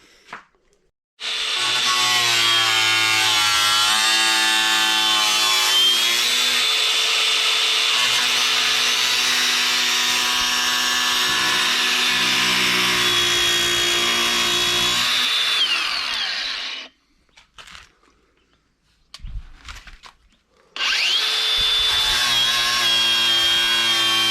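A loud, high-pitched power cutting tool grinding through a metal car body panel for a long stretch, pausing briefly, then starting up again.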